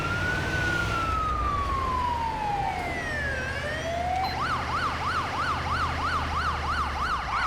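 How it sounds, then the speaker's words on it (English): An ambulance siren in GTA 5 with ELS sirens sweeps down in long wails, then switches to a rapid yelping warble, loud and slightly echoey, with a low engine rumble underneath. "I do kind of love the echoey noise that ELS sirens get."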